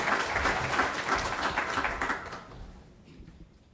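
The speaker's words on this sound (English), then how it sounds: "Let's give Nicole another round of applause." An audience claps warmly for a speaker at a community gathering, the applause holding strong for about two seconds before thinning out and fading to near silence.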